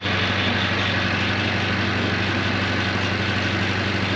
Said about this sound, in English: Then I'll jump on the John Deere and go grab the hay rake